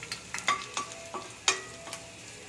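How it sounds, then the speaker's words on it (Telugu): Ginger and garlic pieces hit hot butter in a pan, giving scattered crackling sizzle pops with stirring scrapes, moderately close and alone with no talk. "ఆల్రెడీ కొంత బటర్ వేసాను. దీనిలో ఇది అల్లం ముక్కలు, వెల్లుల్లి ముక్కలు"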